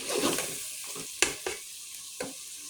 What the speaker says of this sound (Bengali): আমি আগে মশলাটা ভালোভাবে কষিয়ে নিয়েছি